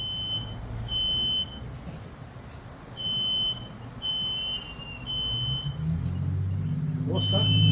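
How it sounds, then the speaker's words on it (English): A high electronic alarm beeps in repeated long tones at an outdoor cooking spot where a large new 50cm wok sits on a powerful wok burner, under a low rumble that grows toward the end. "Some alarm going off."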